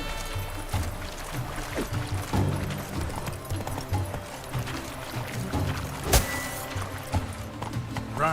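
Roach the horse galloping in The Witcher 3 video game, rapid rhythmic hoofbeats running steadily under game music and ambience, with one sharp louder hit near the end.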